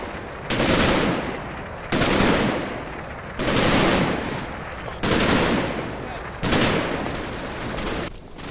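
Loud automatic gunfire from the Combat Mission: Red Thunder wargame as a soldier emerges from the forest on the right flank and attacks troops; long dense bursts repeat about every second and a half, with short pauses between.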